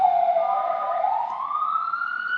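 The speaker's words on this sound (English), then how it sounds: "Apparently it's police day. There's a lot of sirens." A Portuguese police siren wails steadily, its pitch sliding slowly up and down, fairly close and loud with no other sounds over it.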